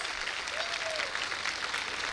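Audience applause fills a school celebration day, a dense, steady wash of clapping held at an even level throughout.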